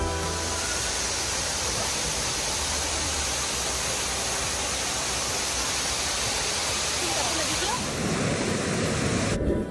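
A waterfall in the mountains of South Korea, visited in the rainy season, roars as a dense, unbroken wash of falling water heard up close, loud and steady throughout.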